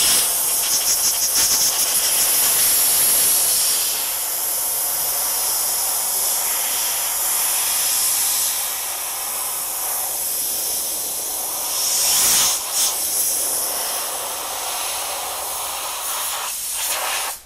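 Compressed air blasts over Yamaha NVX motorcycle parts to dry them, a loud, steady hiss that runs on for many seconds, easing and surging slightly as the nozzle moves.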